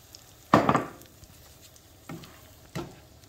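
Eggs hit a hot pan with tomato for Dominican-style eggs, giving one loud sizzling burst that fades, then two shorter, softer sizzles a moment apart, with no talking.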